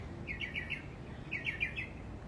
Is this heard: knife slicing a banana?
no